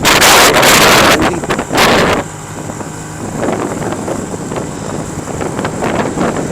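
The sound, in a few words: wind while riding a motorbike at night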